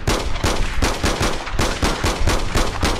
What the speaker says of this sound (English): I should probably stop shooting at the wall and do the outro